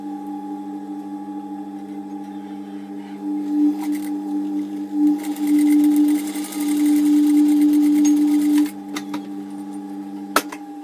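A sewing machine stitching a blue print day dress, a close, whirring motor hum in bursts of a few seconds mid-clip, framed by quieter handling clicks and a sharp tap near the end, no speech.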